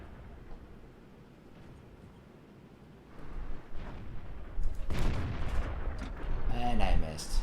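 Gunfire in a video game: sharp broadband shots and crackling bursts break out over a low background rumble, growing denser and louder toward the end. Someone speaks between the shots.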